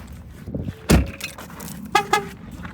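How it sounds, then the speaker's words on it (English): A 2025 Ford Escape Plug-In Hybrid gives two short, bright beeps in quick succession close by at night, after a door thud and some handling noise. "It's gonna beep twice because I got the keys in my pocket."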